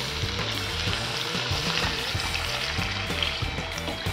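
Chicken broth hits a hot pan while rice is being cooked, producing a steady, loud sizzle and bubbling fry that continues without a break, with faint clinks from stirring.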